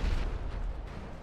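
Heavy gunfire in a PS4 online shooting game plays as a dense, booming rumble of shots and blasts, loud and continuous with no speech.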